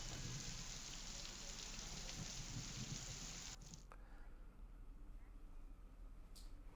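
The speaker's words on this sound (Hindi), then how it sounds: "गरियाबंद में पिछले 30 घंटे से लगातार मूसलाधार बारिश हो रही है।" Heavy monsoon rain pours steadily in Gariyaband, a dense hiss that drops to a softer, thinner wash partway through, with no talk over it.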